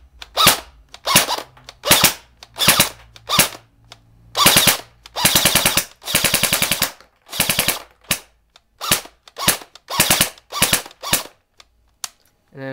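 Echo1 E90 P90 airsoft gun firing in semi-auto mode, a sharp, close string of rapid mechanical snaps, mostly short clusters with a few longer bursts, loud and dry with no talk.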